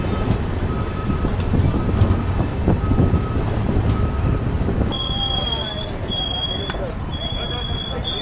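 The Sampark Kranti Express rolls along the tracks in Gujarat after changing lines, a steady rumbling clatter, with high metallic wheel squeals cutting in during the latter half; faint voices underneath.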